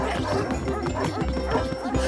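Cartoon dogs barking and yipping in a busy animated chase scene, with repeated barks over a dense backdrop of music and effects.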